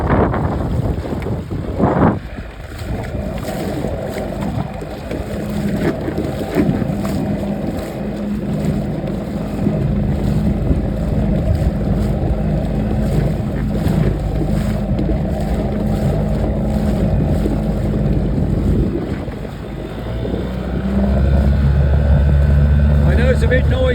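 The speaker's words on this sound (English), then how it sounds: "It's a bit noisy, but there you go, that's what outboards do, they make a noise." An outboard motor drives a small boat, a steady, fairly loud mechanical drone with gusting wind noise across the microphone, and the motor's pitch rises toward the end.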